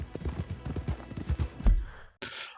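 Horses clip-clopping in Red Dead Redemption 2, a run of hoof clops at a steady trotting pace, fairly close, ending with a short breathy snort.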